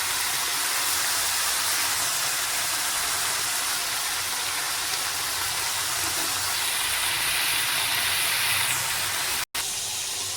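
Vegetables with salt and turmeric sizzle steadily in a hot pan, a loud continuous frying hiss with no pauses, briefly cut off near the end.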